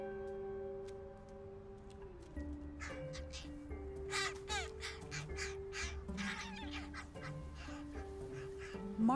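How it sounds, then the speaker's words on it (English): Young crows, hatched about two weeks earlier in Seattle, give repeated harsh caws in several bursts over a steady background of tonal noise and other bird calls, moderately near. "John Marsloff's test crows, who hatched 2 weeks ago, are growing up fast"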